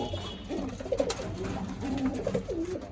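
Pigeons in a pigeon house coo softly, the low rolling calls repeating close by, over a faint rustle.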